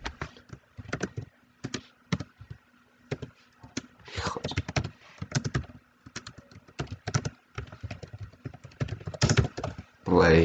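Close, crisp keystrokes on a computer keyboard come in quick bursts and scattered single taps, with short pauses between runs of typing.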